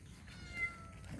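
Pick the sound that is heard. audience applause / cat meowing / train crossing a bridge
cat meowing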